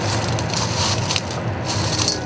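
A pole tipped with hot glass is pressed into a pile of broken blue glass, giving a loud, close, continuous gritty crunching with brief sharper crackles and no talk.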